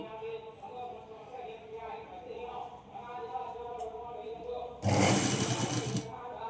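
A sewing machine stitches frills a quarter inch in along puffed blouse sleeves, one loud, close burst of fast running stitches near the end, under steady talking throughout.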